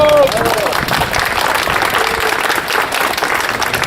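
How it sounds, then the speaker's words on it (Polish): An outdoor crowd at a historic changing-of-the-guard event beside the Motława river applauds the boat crew Sztorm 4, loud sustained clapping with a voice briefly audible at the start. "wielkie brawa dla Sztormu 4!"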